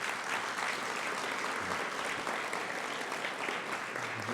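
Audience at the City of Gresham State of the City event applauding steadily for elected officials, a dense, even wash of clapping heard from within the room, fairly soft and sustained, with no talk over it.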